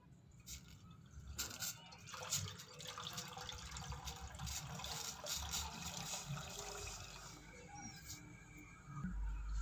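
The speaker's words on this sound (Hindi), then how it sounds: "पैन में सबसे पहले छः कप ठंडा पानी ऐड करेंगे" Six cups of cold water pour steadily into a pan for Kashmiri pink tea, a continuous splashing rush with faint clinks, lasting several seconds without any talking.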